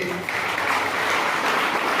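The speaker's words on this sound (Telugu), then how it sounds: "మీ హృదయపూర్వక మన చప్పట్లతో వారికి ధన్యవాదాలు తెలియజేయండి" An audience at a school parents meeting claps in warm, continuous applause, a dense close wash of many hands that swells quickly and holds steady for the full two seconds.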